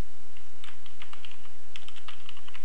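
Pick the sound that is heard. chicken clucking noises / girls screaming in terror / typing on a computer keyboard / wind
typing on a computer keyboard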